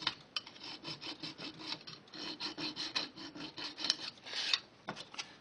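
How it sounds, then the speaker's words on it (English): Rapid back-and-forth strokes of a file rasp away burrs and chamfer the ends of model railway rails while hand-building turnouts, close and quiet, with a steady scratchy rhythm. "Now I'm going to take the burrs off the ends and put a slight chamfer on"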